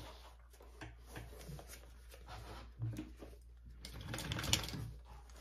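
A sewing machine stitches a binding on a crossbody bag near the zipper in short, close bursts of mechanical whirring with soft rattling, alone without talk.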